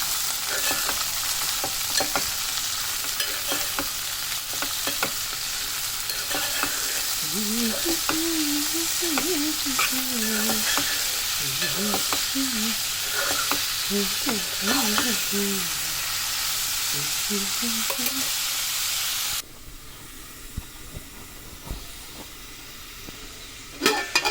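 Cabbage curry fries in a pan under a continuous hiss and sizzle, with the spoon scraping and stirring through the middle stretch before the sizzle drops quieter near the end.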